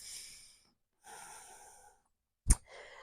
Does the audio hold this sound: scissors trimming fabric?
no